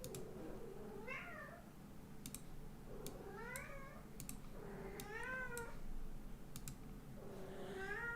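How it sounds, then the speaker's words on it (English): An indoor cat meows four times at a steady pace, each call faint and drawn out, with scattered keyboard clicks between them. "that's my cat again in the background"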